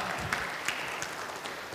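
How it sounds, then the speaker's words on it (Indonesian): A hall audience at a university rector candidate debate claps for Prof. Toha, brief, dense applause with a few louder claps standing out. "Tepuk tangan untuk Prof. Toha."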